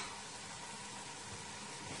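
Chicken frying on a high flame with onion and capsicum, a steady, dense sizzle that fills the whole moment without a break.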